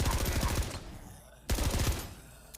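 An SMG fires in rapid bursts in the Memoreum VR space horror game, one long burst that fades, a short pause, then a second close, loud burst.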